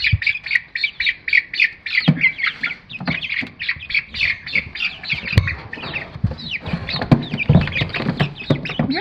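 Chickens squawk and peep in quick, repeated high bursts as they are picked up one by one, close by, with scuffling and light knocks underneath.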